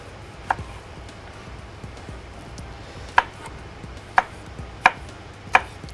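Red peppers cut into diamond shapes with a knife on a board, five sharp, separate chops spaced unevenly over a faint steady background, with no talking.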